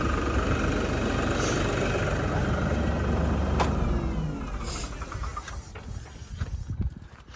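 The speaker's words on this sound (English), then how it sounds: "sorry for the tractor noise" A tractor engine runs close by, its steady, loud diesel rumble filling the scene before easing off somewhat in the last few seconds. No one speaks over it.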